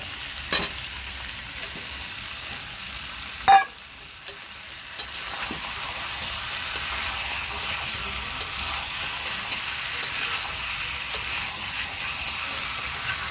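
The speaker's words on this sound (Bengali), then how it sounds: "এবার আমি এর মধ্যে ভাজা আলুটা দিয়ে দিচ্ছি।" Fried potatoes go into desi chicken kosha cooking in oil. A sharp clatter and thump is followed by a steady, close frying sizzle and hiss that carries on evenly, with faint stirring scrapes.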